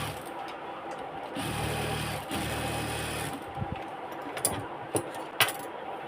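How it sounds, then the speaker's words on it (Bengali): A tailor's sewing machine runs in a steady, close whirring burst while stitching piping onto a blouse sleeve, then stops, followed by several sharp clicks and knocks from handling the cloth. "এই যে সেলাই করতেছি এখন।"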